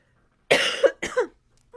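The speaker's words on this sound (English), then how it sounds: "So forgive me for hacking and coughing a little bit." A woman with bad allergies gives a couple of hacking coughs close to the microphone, followed by a quick throat-clearing sound.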